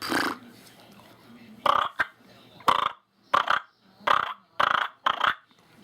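A man imitates a wild turkey's purr call by vibrating his lips, producing a series of six or seven short, close, buzzing bursts separated by brief pauses.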